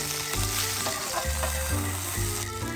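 Steaks sizzling and frying in a pan at a motorcycle campsite, a loud steady crackling hiss close by with no voices.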